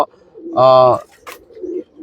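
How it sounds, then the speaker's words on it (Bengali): A single tagged pigeon in a loft coos once, a low, rounded, throaty call of about half a second, heard up close, with a brief rustle afterward. "এটা হচ্ছে আমার লফটের অতিথি কবুতর"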